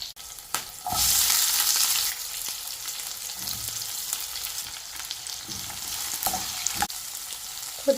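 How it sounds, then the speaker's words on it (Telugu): Tempering spices hitting hot olive oil in a pan for dal, a sharp burst of sizzling that flares loud at first, then settles into steady frying crackle with light stirring and scraping. "ఆయిల్ హీట్ అయ్యాక పోపు దినుసులు అయితే వేసుకుందాం."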